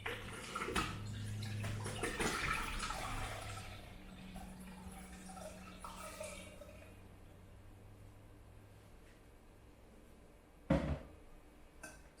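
Water poured from a tap into a container of strained dandelion liquid, a steady rushing flow for several seconds that thins out, followed later by a sharp knock, close and quiet.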